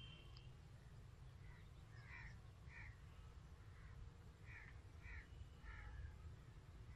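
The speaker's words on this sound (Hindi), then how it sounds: "देखें परिंदों के चहचहाने की आवाज़ आपको सुनाई" Several birds call in short, repeated bursts across a quiet village morning, some sounding like crow caws, faint and somewhat distant over a low steady rumble.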